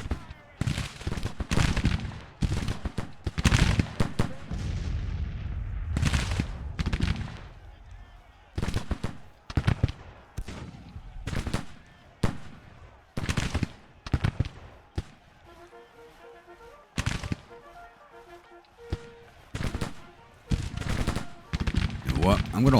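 Civil War battle gunfire in the video game Grand Tactician: The Civil War, dense volleys of musket and artillery shots cracking in irregular bursts, some close and loud, with quieter gaps and occasional talk between them.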